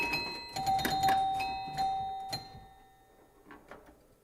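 Pinball machine chimes ring out in a run of bright, resonant strikes that decay slowly, struck several times in quick succession and then fading, followed by softer rattling clicks near the end; close, with no speech.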